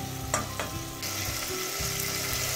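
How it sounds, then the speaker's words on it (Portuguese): A tomato sauce base for seafood rice simmers and sizzles steadily in a pan, a continuous close frying hiss with a few stirring clatters, no talking. "Mexemos e deixamos cozer durante 5 minutos. Até que o tomate coza."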